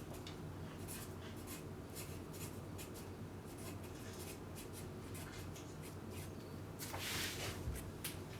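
Pen scratching across a blank card in steady, quick strokes, faint and close, with a brief louder rustle near the end and no talk.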